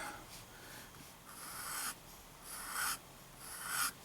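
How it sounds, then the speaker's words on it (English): A fountain pen with a stiff number 5 generic IPG steel nib writing quickly on paper, with soft, close scratchy strokes that come in bursts separated by brief pauses. "Yes, I'm writing quickly."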